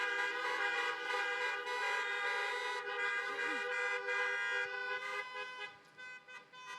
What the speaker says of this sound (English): Can we just honk some horns and acknowledge the people that brought us to this great place?